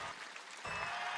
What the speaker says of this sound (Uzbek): Bu yigitimizga qarsaginglar.